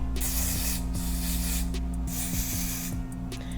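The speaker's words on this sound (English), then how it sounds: "I'm gonna go ahead and apply the wig with this Even Wonder lace spray" Bursts of Even Wonder lace wig adhesive spray hiss out in several short, close, loud puffs with brief gaps, applied along a pre-cut kinky curly lace wig, with no talk.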